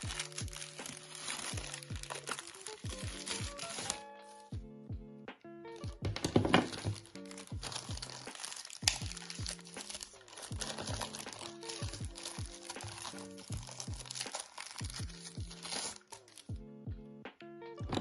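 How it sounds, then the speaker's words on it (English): Plastic packaging around a Govee Aura table lamp's cables being opened, close crinkling and crackling in bursts with brief pauses, fairly quiet. "I'm going to go ahead and open up the plastic"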